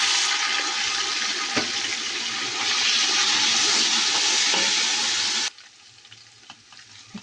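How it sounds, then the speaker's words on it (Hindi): Garlic and ginger frying in a pan burst into a loud hissing sizzle as water is sprinkled in during preparation of chana pulao, the steam hiss holding for several seconds before cutting off abruptly to quiet. "अब मैं इसके अंदर हल्का सा पानी का छिड़काव करूँगी।"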